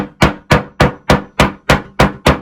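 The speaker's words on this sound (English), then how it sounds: "A second ago I mentioned about hitting with a hammer." Hammer striking a wooden screen printing frame, eight loud, evenly spaced blows about a third of a second apart, close and with nothing else heard.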